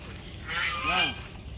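Month-old chicks in a small backyard flock after rain give a couple of short, rising chirping calls close by, set against a quiet outdoor background with no talking.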